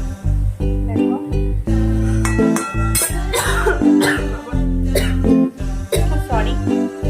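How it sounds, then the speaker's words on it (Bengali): A person coughs repeatedly and loudly, close up, while kochur loti (taro stolons) cooks with green chillies in a home kitchen, giving harsh bursts broken by short gaps. "সরি, ঝাঁঝের কাশি উঠে গেল।"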